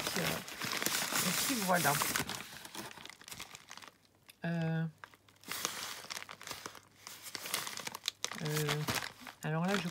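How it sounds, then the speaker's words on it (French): Large paper envelope being opened and crinkled, its papery rustling in bursts through the clip, mixed in with someone speaking French over it. "Je vais commencer à ouvrir et après j'ai vu qu'il y avait une autre enveloppe dans l'enveloppe"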